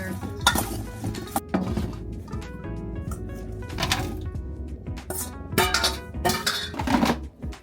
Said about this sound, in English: Stir it up, throw it in the air fryer.